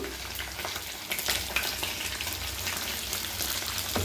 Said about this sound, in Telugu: రొయ్యల్ని ఈ విధంగా మంచిగా డీప్ ఫ్రై చేసుకోవాలి